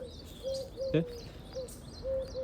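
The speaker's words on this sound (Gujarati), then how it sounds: "અહીંયા હોલી બોલે કુક કુક" A dove calls in a village setting with soft, repeated cooing notes spaced through the moment, fairly near and alone against quiet background.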